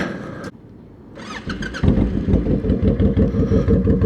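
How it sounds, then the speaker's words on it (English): A Honda VTX1800 motorcycle engine catches and settles into a loud, throbbing idle close by after a brief quiet moment, with no one speaking. "So this is my Honda VTX1800."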